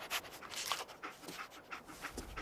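Dogmeat, the dog companion in Fallout 4, pants in quick rhythmic breaths, soft and fairly close, repeating steadily through the clip with no talking.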